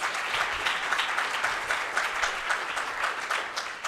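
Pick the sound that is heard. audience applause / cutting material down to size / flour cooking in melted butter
audience applause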